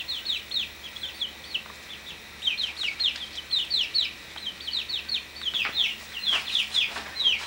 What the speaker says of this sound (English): Chickens that we hatched from the eggs.